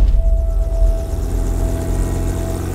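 Mercedes-AMG ONE hybrid hypercar engine on the Nordschleife, a loud steady drone with a sustained tonal whine running throughout, alone without voices.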